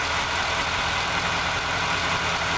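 A Dodge Dakota pickup with a stalling fault runs its engine under acceleration, a steady broadband hum with a constant low drone, continuous and moderately loud.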